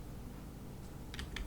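Keys tapped on a computer keyboard, a few quick clicks near the end over a low background hum.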